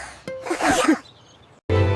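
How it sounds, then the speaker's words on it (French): Cartoonish sneezes in a children's drum song, heard as a short wind-up and a loud burst of breathy noise, then a brief pause before the music resumes. "Les éternuements les plus stupides de tous les temps."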